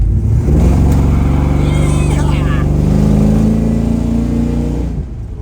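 A 1970 Chevrolet Chevelle accelerates hard, its engine note climbing loud and close for several seconds before easing off, with a voice talking over it.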